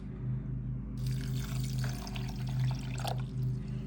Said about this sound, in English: We'll be adding in the water.